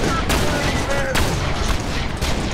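Gunfire in a multiplayer shooter game, a dense burst of shots and booms running steadily through the whole stretch, loud and close, with faint voices underneath.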